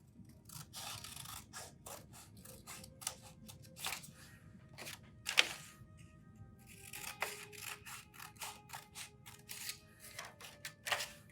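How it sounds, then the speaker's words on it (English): Scissors snipping through paper while cutting slits for a paper pinwheel, a close, quiet series of short crisp cuts with brief pauses between runs. "So we'll cut until we get to that line."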